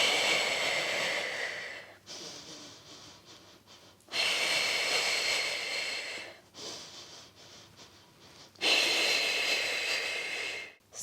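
Slow, deep breaths during a Pilates ab prep exercise, three long hissing airflow phases of several seconds each, separated by short pauses, close and fairly quiet with no talking.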